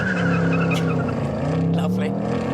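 A Ford Mustang does a line lock burnout, its engine roaring loud and close as the rear tyres squeal and skid continuously on the drag strip.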